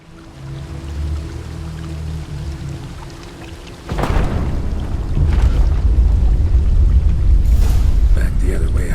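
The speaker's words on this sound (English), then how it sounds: "Waterfall I climbed down to get here." Waterfall in The Witcher 3 video game, a steady broad rushing roar that swells suddenly louder partway through and stays constant, with a voice talking over it early on.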